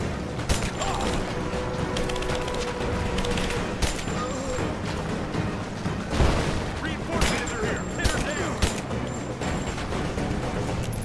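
Gunfire in the video game Rise of the Tomb Raider, a dense fusillade of shots and mechanical clicks filling the scene, loud and continuous, with game sounds layered throughout.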